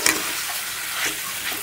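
Half an onion and two green chillies fry with chicken in a pan, giving a steady broad hiss with a brief clatter at the start.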